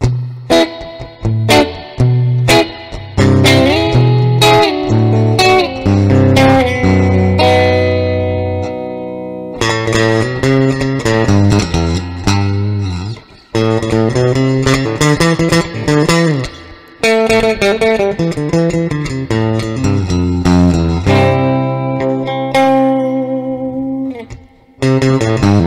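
Guitar played through a Fender Blues Deville reissue amp with its reverb turned up to 9, giving saturated, heavily reverberant chords and single notes that ring on continuously and loudly with no talk.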